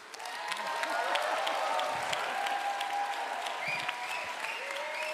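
A hall audience at a European Greens congress in Lyon applauds steadily, a dense wash of clapping with a few cheers and faint voices mixed in, swelling early and then holding fairly even.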